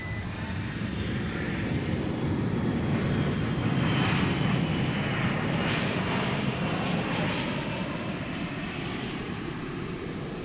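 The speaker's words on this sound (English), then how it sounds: "A late 20th century aircraft coming in from Denver." A late 20th-century airliner arriving from Denver comes in to land at DFW Airport at night, its engines a steady, broad roar that swells slightly midway and holds at moderate distance.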